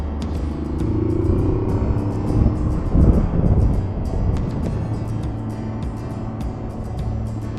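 Steady wind roar buffets the microphone over a low engine rumble while riding an Aprilia Tuareg 660 motorcycle, continuous and fairly loud throughout, with brief gusts swelling midway.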